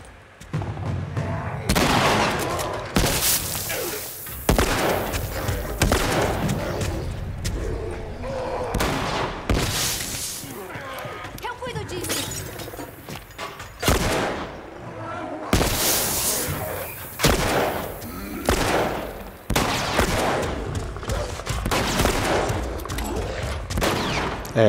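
Rapid bursts of gunfire from The Last of Us, loud and near, firing in repeated volleys with short gaps across the whole stretch, with voices talking between shots.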